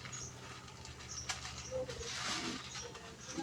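Pigeons being fed at home, with soft cooing and light bird calls over a steady low background hum, the birds close by and moderately quiet.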